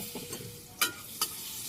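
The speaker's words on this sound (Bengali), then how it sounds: "এদিকে তেল গরম হয়ে গেছে, আমি যে জিরা ফোড়ন দিয়ে দিলাম, এই আলুগুলো এখন দিয়ে দিলাম" Potatoes tipped into hot oil with cumin seeds fry in a steady close sizzle, with a couple of sharp utensil clacks against the pan.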